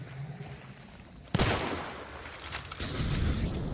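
A single loud gunshot bursts out in the Hunt: Showdown video game, followed by a lingering rumbling decay and a second swell of noisy ambience, with no voices over it.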